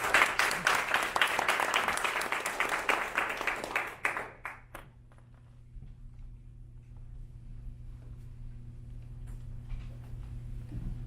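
An indoor audience at a speech club meeting gives a speaker a round of brisk, close clapping that lasts about four seconds, then stops abruptly and leaves a quiet room with a low steady hum.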